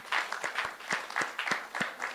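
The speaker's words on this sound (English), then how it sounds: "please, round of applause, please" Applause at a film and TV summit panel, a small audience clapping in a fairly slow, uneven rhythm with distinct individual claps, moderately close and not very loud.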